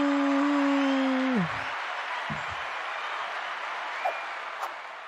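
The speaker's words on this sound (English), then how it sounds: "with a round of applause from the live studio audience" Applause from a live studio audience on a fishing talk show swells briefly behind a short tone, then thins into a softer, steady patter that fades out.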